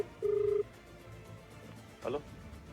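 An outgoing telephone call to a crime branch officer in Rajkot gives a single short, clean ringback tone, followed by a brief faint crackle over quiet background hum.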